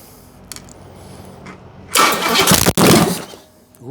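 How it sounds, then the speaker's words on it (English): A 1968 Camaro's 327 small-block Chevy, long dormant, cranks and catches with a loud, rough burst, briefly dips, then runs on strongly for a second before fading. "Turn on the ignition and see what happens."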